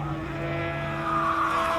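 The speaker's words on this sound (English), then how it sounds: "Sounded like maybe hitting the rev limiter." A race car engine at the Simola Hillclimb holds a high, steady, buzzing note under load, loud and close, sounding tight against its limit.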